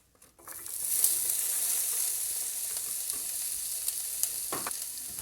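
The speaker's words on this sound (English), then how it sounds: "we're going to go in with our onions and our peppers, and we're going to fry these for about 5 minutes." Onions and peppers hit a hot paella pan, starting with a sudden burst that settles into a constant bright sizzle, with a few light spatula taps toward the end and no talk.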